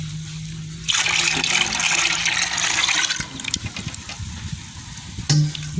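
Durian ice cream mixture pours steadily into a container for homemade durian ice cream, a continuous close liquid splash and trickle lasting several seconds before tapering into quieter drips.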